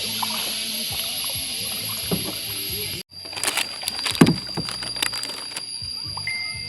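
A kayak paddled on a river at a camp in Laos, with soft splashes and water trickles at close range, a steady outdoor hiss beneath and scattered knocks of the paddle, no speech over it.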